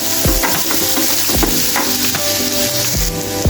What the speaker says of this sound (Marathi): बारीक गॅसवरती व्यवस्थित परतून घ्यायचं जेणेकरून मिरचीचा जो तिखटपणा असेल तो थोडा कमी होईल